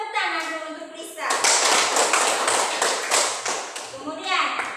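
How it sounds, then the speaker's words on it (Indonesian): A class of children claps for a classmate in a classroom, a burst of fairly close clapping framed by voices before and after. "Tepuk tangan dulu untuk Lisa."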